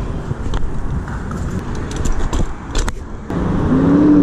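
Los Angeles street traffic heard from a BMX bike riding through South Central, a steady broadband road rumble with passing cars and scattered clinks and rattles, the roar swelling louder toward the end as a vehicle approaches.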